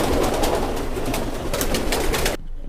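Pet pigeons coo steadily at close range in a loft while they feed on grain, the soft rolling calls continuing without a break before cutting off abruptly near the end.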